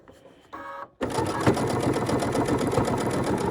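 A sewing machine stitching an apron runs in a short burst, pauses briefly, then hums steadily with rapid mechanical clatter, close and loud, while a voice speaks over it.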